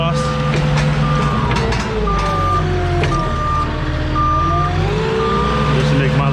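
A truck reversing during a bulk pellet fuel delivery, its backup alarm beeping in a steady, evenly spaced series over a loud, continuous engine rumble.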